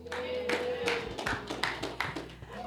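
An audience at a Faithx Q&A talk breaks into scattered, uneven hand claps, a handful of sharp, close slaps spread irregularly over a couple of seconds rather than full applause.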